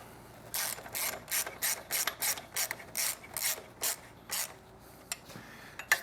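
A 12mm ratchet wrench tightening an exhaust bolt on a Triumph 900 motorcycle, giving a quick series of about a dozen crisp clicking strokes in uneven rhythm, close and clear with no speech.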